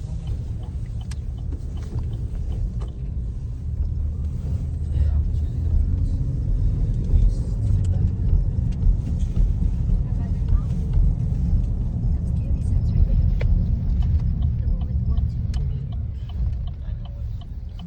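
A car driving on the road, a vehicle smaller than a big truck, gives a steady low engine and road rumble that runs throughout, close and continuous, with no talk over it.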